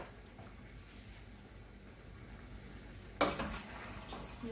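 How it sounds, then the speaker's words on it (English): Pepperoni chicken pasta with olives and Parmesan is stirred in a pan, a steady low sizzle with soft scraping and squishing, then a sharper clatter of the spoon against the pan near the end. "Just give this a stir."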